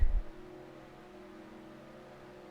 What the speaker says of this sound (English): The cars come down the front of the racetrack, and they are off